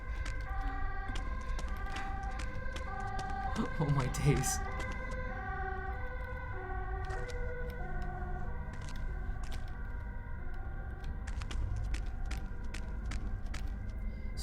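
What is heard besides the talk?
sirens outside during Fatal Frame IV playthrough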